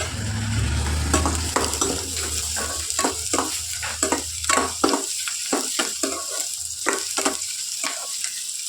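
Bay leaf, cinnamon, cloves, cardamom and cumin frying in oil for egg curry, a steady close sizzle broken by repeated sharp scraping stirs of a spoon against the pan, with no talking.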